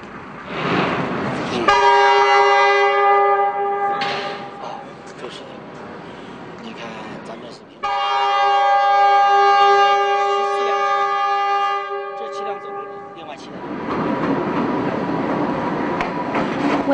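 A garbage-collection train on the Qinghai-Tibet Railway rolls in with two long, loud harmonic horn blasts separated by a short gap, rumbling rail noise underneath and voices talking faintly.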